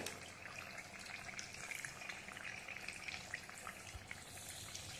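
Sabudana vada patties frying over a low flame in hot oil, giving a steady, fairly faint crackling sizzle that continues evenly without any talking.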